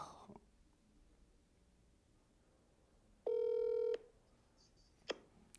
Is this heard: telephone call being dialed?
yes